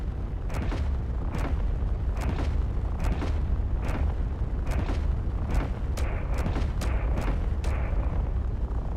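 Ship weapons in a space combat video game fire a volley of repeated loud booming shots, spaced irregularly about every half second to a second over a continuous low rumble, with no talking.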